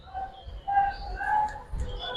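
Soft, low cooing from khaki Giribaz pigeons kept in a loft with their chicks, in a few short, murmuring phrases with faint higher chirps close by.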